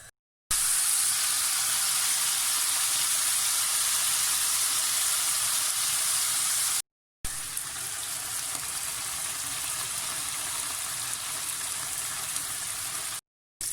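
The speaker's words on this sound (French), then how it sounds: "Je vais y ajouter un petit peu d'huile d'olive et faire saisir mes petites boulettes" Small minced-meat meatballs searing in olive oil in a hot frying pan, giving a loud, steady, close sizzle that is broken by two brief silent gaps.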